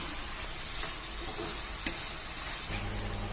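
Brinjal and tomato fry in a pan for a Telangana chutney, giving a continuous soft sizzle and crackle with a small knock partway through and no voices.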